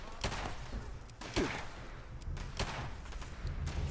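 Gunfire from a heavy, hard-recoiling weapon in Fallout 76, a few sharp shots spread irregularly across a few seconds over a constant rumbling game background, with no speech.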